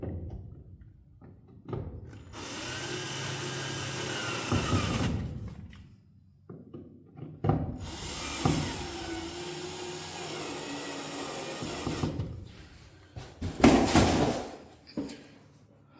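A power drill drives screws into the condensate pan of a York furnace, in several long whirring bursts separated by short pauses, fairly close and with no talking.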